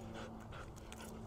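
Two dogs on a walk pant steadily in quick, rhythmic breaths, close by but faint, with no talking.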